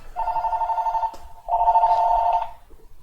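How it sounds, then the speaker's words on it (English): A telephone rings for an incoming call, two long electronic trilling bursts separated by a short pause, fairly loud and clear with no talk over it. "I'm getting a phone call"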